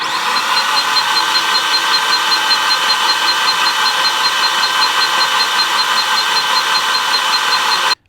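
A Mitsubishi Evo X engine turning over at its first start, giving a loud, close, even mechanical drone with a faint high whine that holds steady for about eight seconds and then cuts off abruptly.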